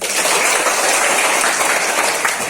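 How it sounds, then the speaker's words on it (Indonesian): A classroom of junior high students at SMP PGRI 6 clap together in a steady, dense wash of applause that holds evenly loud from start to finish, with no voices over it. "Tepuk tangan buat kita"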